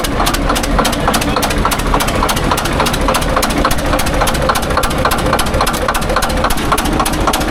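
A heavy-equipment diesel engine runs rough and misses a cylinder, a loud, close, uneven chugging with rapid regular knocks and pulses over a deep steady rumble.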